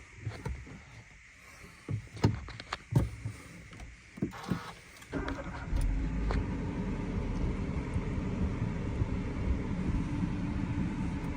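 A used 2014-model single-owner car nearby: a few sharp clicks and cranking knocks, then the engine catches about halfway through and settles into a steady, even running hum.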